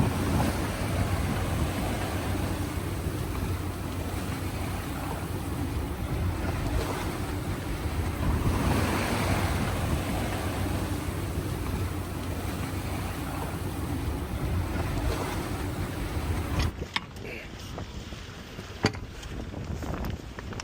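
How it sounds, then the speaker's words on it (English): A sailboat pounds upwind through waves off the Canary Islands in a headwind: constant roaring wind buffeting over rushing, slapping water, with a few sharp knocks and clanks near the end. "we're gonna be pounding up through some waves for a while"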